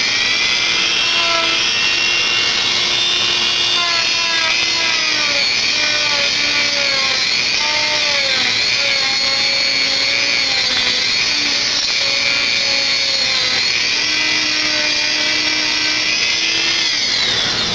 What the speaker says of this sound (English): I'm going to have to turn my Dremel on, so it's going to be pretty loud for you guys